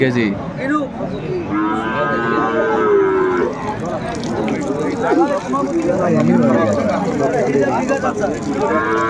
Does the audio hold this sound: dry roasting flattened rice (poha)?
no